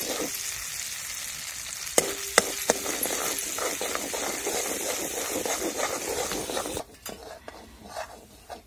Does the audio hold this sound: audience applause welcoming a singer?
no